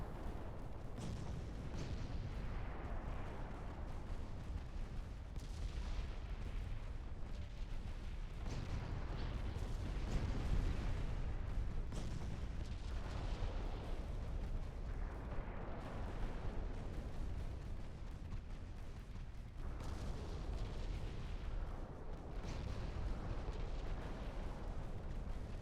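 Naval battle in Ultimate Admiral Dreadnoughts: a continuous rumbling wash of distant heavy gunfire and booming shell impacts rolls on without pause, dense and steady at moderate loudness.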